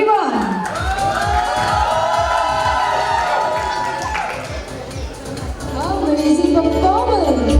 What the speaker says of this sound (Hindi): एक बार प्रतीक भैया सृष्टि भाभी के लिए जोरदार तालियां होनी चाहिए everyone.